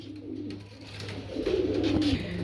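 Lahori pigeons in grey bar colour coo softly and rhythmically, close by. The cooing swells in the second half over a low background hum.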